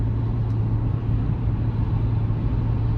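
A 2023 Chevrolet Tahoe RST Performance Edition with its 6.2 V8 drones steadily at a low pitch while cruising on an interstate, a constant close cabin hum mixed with road and tire noise and no talking.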